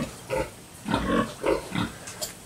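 A sick young sow in a piggery pen, off her feed, gives a series of short, soft grunts in an uneven rhythm, five or so close together.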